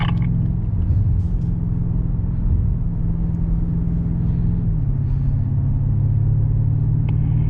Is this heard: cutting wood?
no